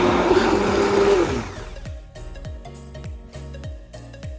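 An electric blender purées a very smooth green chili paste with a loud whirring roar that winds down after about a second and a half, followed by a series of repeated short pulses.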